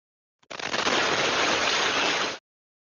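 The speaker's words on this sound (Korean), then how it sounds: "커다란 폭발이 4초 만에 무려 11차례에 걸쳐 연이어 일어납니다" News footage of a rapid series of large explosions: a sudden loud, continuous roaring blast that lasts about two seconds and then cuts off abruptly, with no voices.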